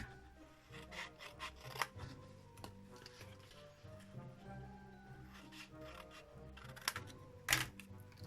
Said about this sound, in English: These 2 little pieces are not needed, so we are going to snip those right off.